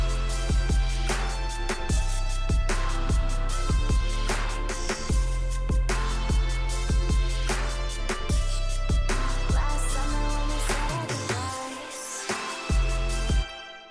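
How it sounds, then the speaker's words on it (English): An unreleased future bass track plays with a punchy, repeating kick-and-bass pattern under layered synth chords, loud and continuous before a short breakdown and stop near the end. "This is a little future bass project that I started at"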